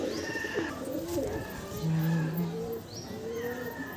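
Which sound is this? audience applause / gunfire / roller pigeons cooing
roller pigeons cooing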